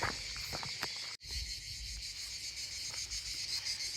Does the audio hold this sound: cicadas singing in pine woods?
yes